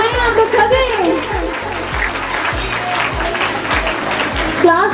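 Audience applause at a school prize distribution ceremony, crowd clapping under a loud music track with a regular thumping beat and rising tones, children's voices faintly mixed in.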